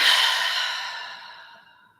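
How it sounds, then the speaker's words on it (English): Slow, deep exhale during a guided yoga breathing session, a single soft airy breath that starts fairly loud and close and tapers gradually into silence over about two seconds. "One more time, big deep breath in. Pause. And exhale, release."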